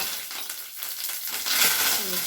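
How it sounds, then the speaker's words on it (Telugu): Chana dal, urad dal, mustard seeds, cumin, dried red chilies and curry leaves crackle in hot oil. The sizzle swells into a louder, brighter hiss partway through. "ఆయిల్ వేడెక్కిపోయిందండి శనగపప్పు మినపప్పు ఆవాలు కొద్దిగా జీలకర్ర ఎండుమిర్చి కరివేపాకు"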